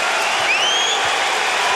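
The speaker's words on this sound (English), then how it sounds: "Crowd makes some noise." Basketball arena crowd at a 1991-92 Bulls vs Knicks playoff semi-final, a steady broadband roar of cheering and applause with a couple of rising whistles, loud and continuous throughout.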